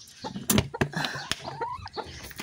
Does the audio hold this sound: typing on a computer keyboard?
no